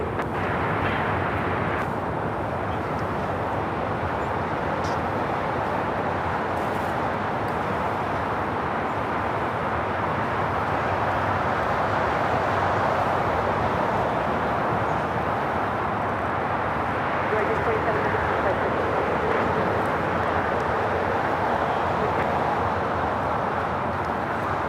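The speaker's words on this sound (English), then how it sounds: "We do have a United Dreamliner, 787-9 Dreamliner, heading to Hong Kong, Flight 801, and number 3 for takeoff here on the south side" A United Boeing 787-9 Dreamliner on its takeoff roll at LAX, a steady broadband jet roar that holds loud and constant throughout, heard from a distance with no voices.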